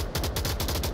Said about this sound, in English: he's putting smoke and gunshots out, which is gonna draw the attention to him